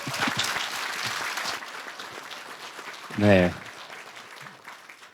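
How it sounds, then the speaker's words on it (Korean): A church audience at a deaconess training session claps to welcome the senior pastor, moderate steady applause, with a brief spoken voice rising above it partway through. "박수로 맞이해 주시겠습니다."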